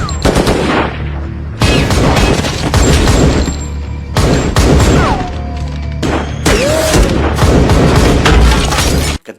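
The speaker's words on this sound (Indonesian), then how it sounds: "Ketika baku tembak tengah berlangsung" Movie shootout with rapid bursts of automatic gunfire and heavy booming explosions, loud and close, coming in repeated clusters separated by brief pauses, with a few sharp shattering impacts.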